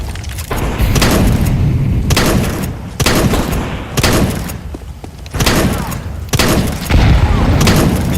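Repeated heavy thuds and bursts from a Counter-Strike style round with grenades and Molotovs being thrown, loud and close, coming in separate blasts about every second with short gaps between.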